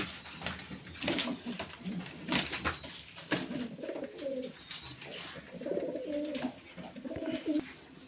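Pigeons in a loft coo repeatedly in soft, rolling phrases, fairly close, with occasional rustles and faint background noise.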